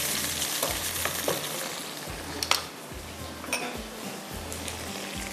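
Chicken sizzles steadily in a pan with garlic during home cooking, close and continuous, with occasional clinks of a utensil against the pan.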